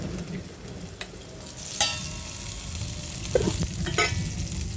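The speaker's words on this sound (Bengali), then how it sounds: "এখন ছিমটা দিয়ে এই মশলার সাথে সুন্দর করে কষিয়ে নেব" Flat beans (shim) sautéing with spices in a pan, a low steady sizzle with a few scrapes and stirring knocks of a spatula, close and continuous with no talk.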